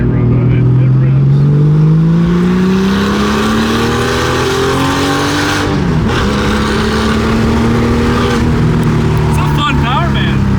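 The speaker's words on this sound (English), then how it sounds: "you get those backfires in this car, you might be able to hear them on camera, but it rips." An Outlaw Porsche engine revs hard in a sweeping rising tone, briefly drops around the midpoint, then climbs again, loud and close, with crackling backfires mixed in and a person talking over it.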